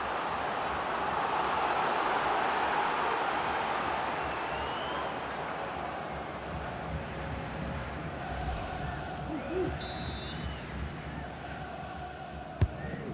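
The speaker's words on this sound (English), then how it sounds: "The crowd are certainly playing their part." A stadium crowd roars steadily in a FIFA 22 Ligue 1 match between Lyon and PSG, a dense, continuous wash of cheering that swells early and then holds at a slightly lower level.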